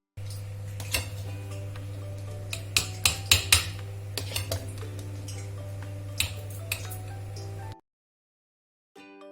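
Metal spoons and pots clink and scrape in a home kitchen as semolina halwa is served from the cooking pot into a dish. The irregular clatter sits over a steady hum, then cuts to near silence.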